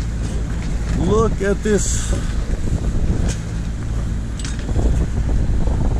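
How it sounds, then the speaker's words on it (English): Continuous low drone of a sailboat's motor running to charge batteries while sailing downwind at sunrise, steady and close under wind noise, with someone speaking briefly. "The motor is on because I'm charging my batteries"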